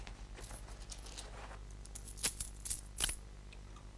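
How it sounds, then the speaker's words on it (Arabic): Coins are handled during a children's puppet show sleight-of-hand act, giving faint metallic clinks and a few brighter chinks against a quiet background, with no talking. "قطع نقود"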